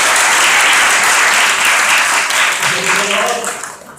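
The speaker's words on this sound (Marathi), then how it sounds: "अरे टाळ्या वाजवा, टाळ्या." A church congregation breaks into loud, sustained applause, dense and close, filling the space for several seconds before tapering off at the end, with some voices mixed in.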